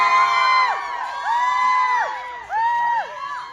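An audience at a Lotte Cinema World Tower film screening and Q&A event cheers, shouting and whooping in repeated loud bursts, with voices rising and falling in waves and excited high-pitched yells running over one another.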